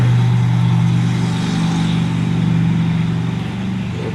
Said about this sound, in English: It's a weekend day, so it's a little noisy with boat traffic out there.